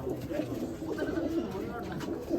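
A pigeon kept on a rooftop coop gives soft, low, repeated coos nearby, a gentle rolling murmur running continuously with faint background sounds.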